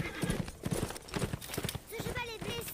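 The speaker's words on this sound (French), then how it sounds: "Ce cheval est blessé, père." Horse hooves clip-clop in a steady rhythm, then a horse whinnies near the end, in the medieval audio game A Blind Legend; voices talk over the sounds.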